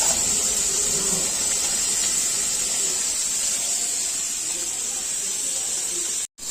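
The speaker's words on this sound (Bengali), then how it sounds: "উচ্ছেগুলো ভাজা হয়ে গেছে কড়কড়া করে" Bitter gourd slices fry crisp in hot oil in a kadai, giving a steady, even hiss that holds without a break before cutting off abruptly near the end.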